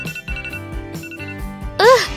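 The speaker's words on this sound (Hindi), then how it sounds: "हाँ, इस अलार्म को बंद कर देती हूँ।" Phone alarm rings out abruptly at the end, a short bright warbling tone rising over quiet indoor sounds and voices.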